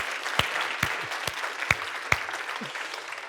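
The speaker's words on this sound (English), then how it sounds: "Let's give you a round of applause." Applause from an audience at a millionaires' business summit seminar, a steady wash of clapping with a few sharper claps standing out, moderately loud and without talk over it.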